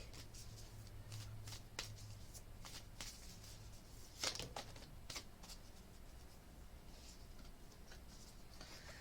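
Animal spirit guide oracle cards by Stephen D. Farmer are shuffled and pulled close by, a soft, faint run of repeated riffling flicks and taps with one sharper snap near the middle, no speech.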